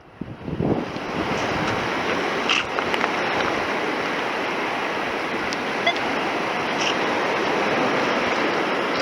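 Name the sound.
ocean waves at the beach shoreline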